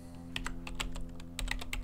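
A project title is typed for a Scratch program on a computer keyboard: a quick, close run of irregular key clicks with no talking.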